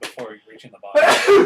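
A single sharp sneeze bursts out near the end, following a short spoken phrase from a player at a tabletop role-playing session.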